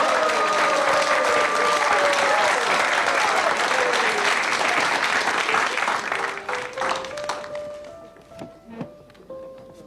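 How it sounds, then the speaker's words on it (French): An audience applauds a man picked from the crowd, dense clapping that stays full for several seconds, then thins and fades out while tonal sounds and a few voices rise. "On l'applaudit, ce monsieur-là,"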